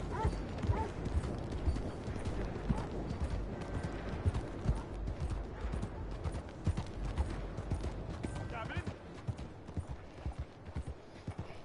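Horse hooves clip-clopping in Red Dead Redemption 2, a steady rhythmic stream of hoofbeats on the ground continuing throughout at moderate level, with a faint snort or creak now and then.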